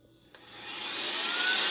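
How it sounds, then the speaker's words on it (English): A Saker vacuum cleaner sucking up dust in a small tight space, its motor whine rising steadily and staying loud and smooth, with no talking. "use the vacuum attachment to vacuum everything up"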